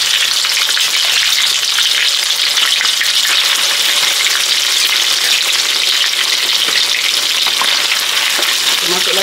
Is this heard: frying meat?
yes